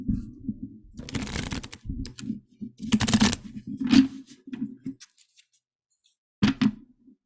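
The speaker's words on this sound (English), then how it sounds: "Let me shuffle one more time." Tarot cards being shuffled by hand in several bursts of riffling and rustling, close and fairly quiet, with pauses between and a last short shuffle after a brief silence.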